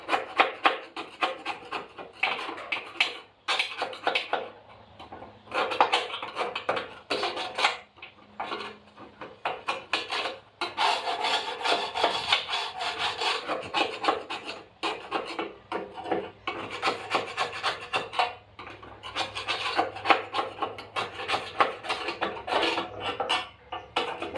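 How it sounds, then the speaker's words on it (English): Hand scraper scraping paint off an old EZ Haul utility trailer, a continuous close, gritty rasping of rapid back-and-forth strokes lasting over twenty seconds, with occasional brief pauses and no talking. "Maybe I can put the scraper back there and do some good."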